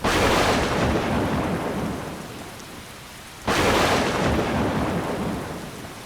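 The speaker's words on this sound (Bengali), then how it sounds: "শুধুমাত্র বজ্রপাত আর বৃষ্টির ফোঁটার আওয়াজ ছাড়া আর কিছুই নেই।" A stormy night rain hammers down in a dense, roaring wash, and rolling thunder swells, fades, then breaks again sharply partway through.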